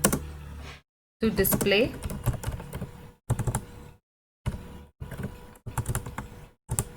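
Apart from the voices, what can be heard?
typing on a computer keyboard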